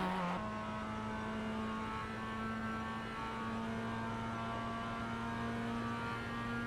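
Mazda MX5 race car engine in the iRacing sim at VIR North, a steady, loud, close-up drone with sustained harmonic tones held at constant revs throughout, no talking.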